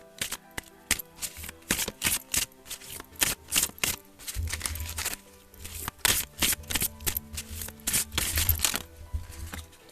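Oracle cards are shuffled for a tarot reading, a close series of quick papery riffles and flicks in irregular bursts, with soft slaps of cards landing between them.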